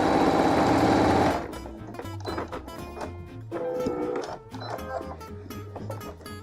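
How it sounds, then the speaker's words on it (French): Sewing machine stitching a trouser seam at the knee with back-tacks, a close, rhythmic mechanical chatter that runs in bursts and stops and starts, after a brief louder whirring opening, with no talk. "quand j'arrive à la couture du pantalon qui n'a pas été décousu, je chevauche sur quelques centimètres et je fais des points d'arrêt"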